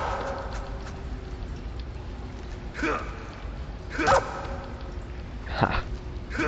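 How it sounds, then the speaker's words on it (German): Guard dog barking in the video game Metal Gear Solid 3: three sharp barks spaced a second or so apart, moderately close, over a low ambient background. "Ah, da ist ein Hund."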